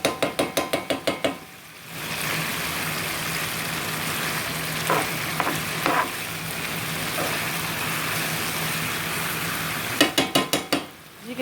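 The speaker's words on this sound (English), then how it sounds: "Remember, we have to cook the peppers along with everything else." Peppers stir-frying for orange chicken sizzle in a steady wash, with a few utensil scrapes and clinks in the middle and rapid rhythmic tapping or tossing at the start and end.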